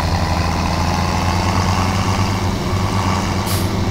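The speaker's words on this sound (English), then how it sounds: "we can take the tractor" Tractor engine in the video game Farming Simulator 17, a steady loud diesel drone with strong low harmonics running continuously and alone throughout.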